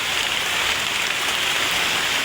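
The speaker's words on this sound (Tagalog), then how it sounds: "Umuulan talaga dito sa amin." Steady afternoon rain falls at a crab-hunting spot in the Philippines, a dense, even hiss of drops that holds unbroken and fairly loud throughout, with no voices.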